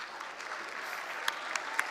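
An audience at a talk on space exploration applauds in a short, steady burst of moderate clapping, with a few sharper individual claps standing out near the end.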